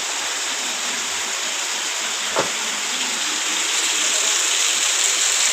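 Heavy rain pouring steadily at Parshuram, a dense, even hiss of rainfall that stays loud and constant throughout, with one brief thump partway through.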